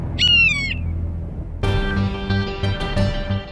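A kite bird gives a short, shrill wavering screech at the start, followed by loud rhythmic dramatic music with drum hits in a fantasy television show.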